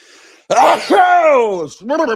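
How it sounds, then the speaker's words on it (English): A single loud sneeze bursts out after a brief quiet breath, trailing into a strained voiced exhale, close to the microphone. "So I'm going to sneeze, I think."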